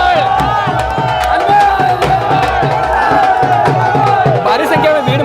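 A large crowd at a welcome ceremony for Hanuman Beniwal, who is carried on shoulders in Sujangarh, shouts and cheers in rhythmic bursts, loud and close, with voices chanting together over a dense hubbub.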